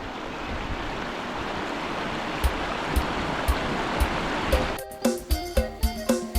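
A main river flowing past a village deep in the forest makes a steady, loud rushing wash, and near the end a run of sharp, regular knocks cuts in over the water.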